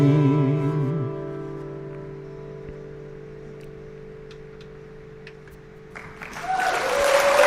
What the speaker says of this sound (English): Listen to that studio audience.